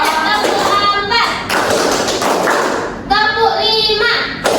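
A primary-school class in a classroom claps together in short rhythmic bursts between children's chanted counting, with a loud stretch of group clapping in the middle of the voices.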